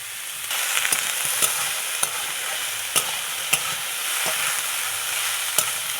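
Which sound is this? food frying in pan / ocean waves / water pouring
food frying in pan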